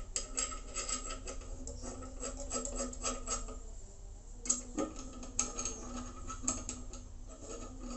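Metal bolts are tightened on a Ubiquiti PowerBeam M5 400 antenna mount, giving quiet, close rasping turns broken by a few sharp clicks and taps.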